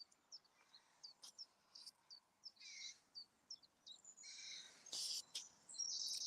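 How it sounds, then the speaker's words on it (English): Crows call from trees along a woodland walk, giving short, distant chirping cries that repeat irregularly, with a few louder calls clustering near the end and no talk over them. "there's not many crows nested. I can hear them."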